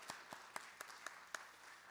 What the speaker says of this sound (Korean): 우리 감사와 또 기대의 박수로 축하해 주시면 감사하겠습니다